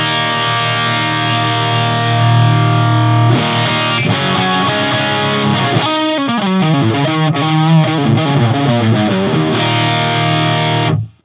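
An electric guitar played through a Tone INK Gambit booster pedal, likely into a JCM amp, rings out with loud distorted sustained chords, then shifts into quicker picked notes and runs before cutting off abruptly.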